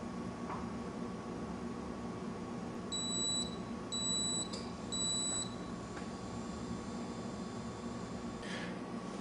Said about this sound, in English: A momentary alarm will sound and the step 2 timer will initiate at the program time